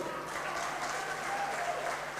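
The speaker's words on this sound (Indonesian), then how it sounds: "Tepuk tangan dulu saudaraku." A church congregation at a Christian marriage sermon claps together in a steady, moderately loud round of applause lasting a couple of seconds, with a faint hum underneath and no speech.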